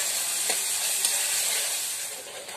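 Onions and green chillies fry in hot oil with a continuous bright sizzle, steady and close, with a couple of faint stirring taps.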